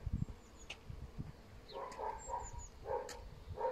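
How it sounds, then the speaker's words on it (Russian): Many bees buzz outdoors in a village, their droning passes rising and fading in bursts over low thumps and background noise, fairly faint. "А здесь столько пчел."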